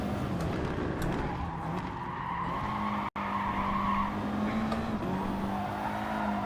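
Car in GT Sport braking late into a chicane, tires skidding and squealing steadily over a droning engine for several seconds, loud and close, with a brief cut midway.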